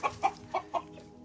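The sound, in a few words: chickens, roosters and ducks clucking in a pen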